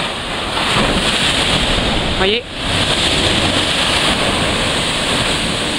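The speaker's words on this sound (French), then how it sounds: "il y a une très grosse vague qui arrive" Large waves at high tide in Saint-Malo roll and crash in a steady, loud, broadband surge, with heavy wind buffeting the microphone and someone talking over the roar.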